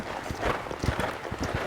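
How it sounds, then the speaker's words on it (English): Horse hooves beating in a quick rhythm as the horse moves up into a canter under a rider, soft and somewhat distant over a steady outdoor background. "Now, we're gonna ask him to canter."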